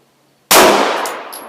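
A Glock 19 Gen 4 pistol fires one loud, sharp shot at a steel target, and the metal rings on in a long, fading clang.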